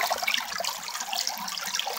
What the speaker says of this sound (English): the creek's done dropped out a little bit more. It ain't as rushing as hard as it was the other day.